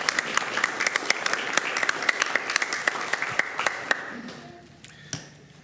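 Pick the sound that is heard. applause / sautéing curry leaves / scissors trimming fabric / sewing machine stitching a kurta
applause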